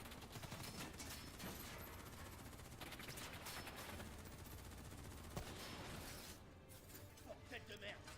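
Dense automatic and rapid gunfire from a Call of Duty Black Ops 3 firefight, loud and sustained throughout, with shots and mechanical clatter layered over game voices talking.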